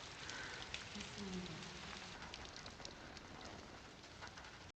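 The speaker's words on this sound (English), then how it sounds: "She's never been out in the rain." Steady rain falling in a film scene, a soft continuous hiss of drops spread evenly across the short stretch, with a faint low cooing bird and a hint of voice in the background.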